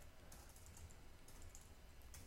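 Soft typing on a computer keyboard, a quiet irregular patter of key presses with a few brief bursts, heard alone at low level while entering text into a document.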